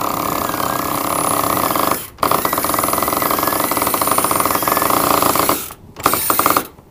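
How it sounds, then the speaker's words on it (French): An electric winch on a catamaran reefs the sail with a steady loud grinding whir. It breaks off briefly twice and then restarts, close by. "avec le winch électrique, c'est assez simple."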